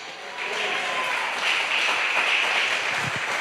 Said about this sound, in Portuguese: Aplauda os céus